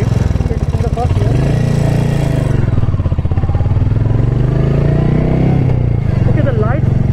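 A Royal Enfield Himalayan 450 motorcycle riding, its engine drone loud and close throughout with shifting pitch as it accelerates, under wind and mechanical clatter.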